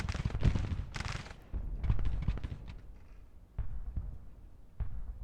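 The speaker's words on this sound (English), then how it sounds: "These are 24-pounder howitzers" 24-pounder howitzers boom in a Civil War battle in Grand Tactician, a handful of heavy, fairly close discharges spaced irregularly over a rumbling battlefield background.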